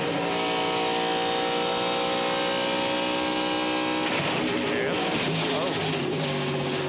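Michael Waltrip's NASCAR Winston Cup race car roars from an onboard view during a 2003 race, a loud, unbroken engine drone at high revs that turns rougher and noisier near the end.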